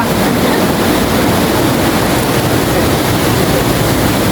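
A strong river current rushes past large rocks at the water's edge, a steady, loud, unbroken roar of water with no voices.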